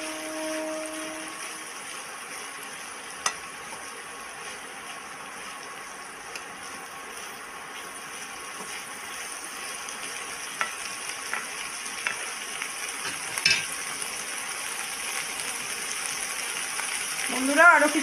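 Drumstick flowers fry in a pan for a vegetarian chochhori, a soft low sizzle and occasional scraping stirs running under quiet, sparse background sound, with a few sharp clinks near the end.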